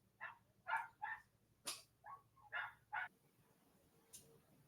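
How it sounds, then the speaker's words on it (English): Several dogs bark in a house, letting out about seven sharp barks in quick uneven bursts over a few seconds. They sound fairly close, and no one speaks over them. "My dogs are acting up."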